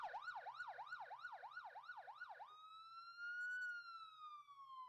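An ambulance siren wails nearby, first in a rapid rising-falling yelp, then switching to a slower, steady two-tone wail.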